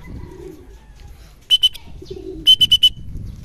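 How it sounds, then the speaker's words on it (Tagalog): A brown racing pigeon returning from club training coos softly twice amid low background rumble, each coo followed by a sharp rapid electronic beeping pattern, close and clear. "Ito yung isang ibon natin, yung brown, pang 13 ibon."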